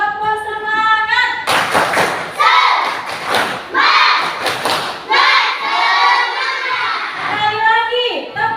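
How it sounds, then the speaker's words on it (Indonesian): A classroom of children does a rhythmic spirit clap, loud group hand clapping in a patterned beat mixed with children chanting and shouting along. "Sekali lagi, tepuk semangat."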